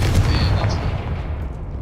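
A Confringo blasting spell goes off in the Hogwarts Legacy video game, a short booming burst near the start that quickly fades into a rumbling tail.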